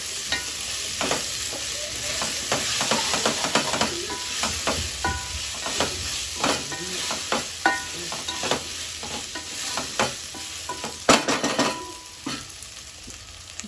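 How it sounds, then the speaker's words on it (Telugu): Ginger and leftover vegetables fry on a low flame for a vegetable biryani, with a steady close sizzle broken by repeated scraping stirs of a spoon against the pan. "అది పచ్చి వాసన పోయేంత వరకు ఫ్రై చేసుకుంటూ సిమ్లోనే పెట్టుకొని మధ్య మధ్యలో ఒకసారి కదుపుతూ మిక్స్ చేసుకోవాలన్నమాట"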